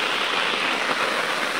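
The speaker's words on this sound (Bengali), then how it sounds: "কত বৃষ্টি হচ্ছে" Heavy rain pours steadily over a village during a wet morning, a dense, even hiss that stays loud and unbroken throughout with no pauses.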